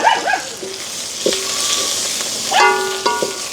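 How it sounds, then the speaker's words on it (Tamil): Fennel seeds and mustard seeds sizzling and crackling in hot oil at the start of a home-cooked dish, a steady frying hiss with a dog barking intermittently nearby. "முதல் வந்து பெருஞ்சீரகம் கடுகும் போட்டுக்கொள்வோம்."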